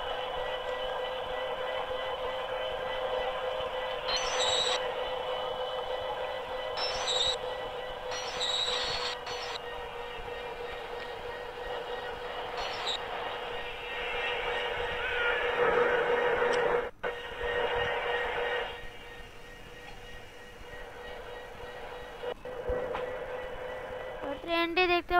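A train runs in a Bangladesh train simulator game, with an old locomotive pulling the Subarna Express out of Chittagong station: a steady engine drone with repeated higher whistle-like or squealing bursts.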